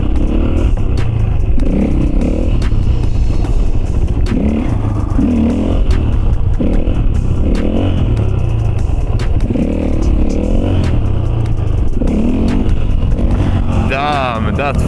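A Husqvarna FE450 four-stroke dirt bike revving and pulling hard in bursts of throttle, loud and close, with clattering and scraping from the ride and a voice talking over it.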